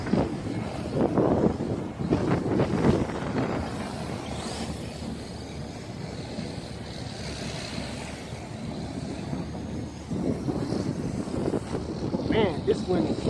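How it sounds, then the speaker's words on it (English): Strong gusting wind buffets the microphone outdoors while a Hubsan H501S drone is flown, a broad steady roar with louder surges at the start and end. "Man, this wind is killer out here."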